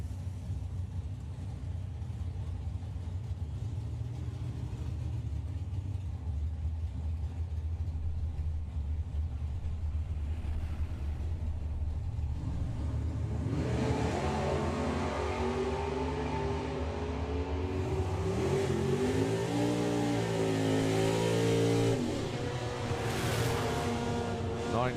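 Drag racing cars, a Chevy Nova called Nova Scotia and the Shotgun Mustang, launch at Santa Pod Raceway in the UK. A steady low rumble swells after about fourteen seconds into a loud, rising engine roar with shifting pitch.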